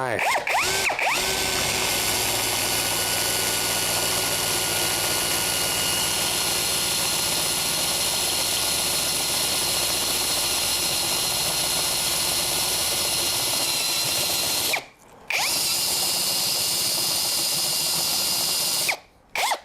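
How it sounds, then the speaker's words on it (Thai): A power drill fitted with a Pumpkin pilot-tip drill bit whines steadily for a long stretch, boring a hole slowly with light pressure, loud and close, stopping briefly twice before starting up again. "เดี๋ยวผมเจาะรูใหม่นะ จะลองค่อยๆเจาะ"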